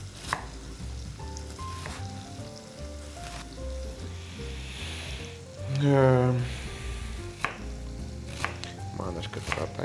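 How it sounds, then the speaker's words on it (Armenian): Quick knife strokes chop cabbage finely on a board for a home-cooked dish, an irregular run of close, crisp taps with a louder burst of activity partway through. "Մանր կտրատենք, թող հարմար լինի ուտելը։"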